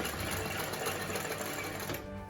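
A Singer 20U industrial sewing machine stitches embroidery in a loud, continuous, rapid mechanical whir that runs steadily and then drops slightly near the end, with no speech.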